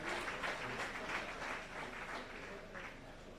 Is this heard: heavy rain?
no